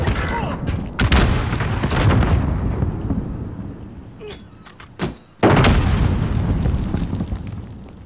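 A grenade blast in Call of Duty: Modern Warfare, a sharp loud burst followed by further booms and gunfire-like cracks amid dense battle noise, with a player talking over it.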